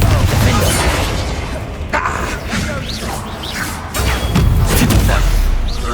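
A Confringo fire spell blasts in the Hogwarts Legacy video game amid dense combat noise, with booming impacts and crashes layered over constant action sound, loud and busy throughout.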